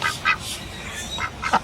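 A white bird nearby gives a few short, loud, duck-like quacking calls in quick succession over an outdoor background.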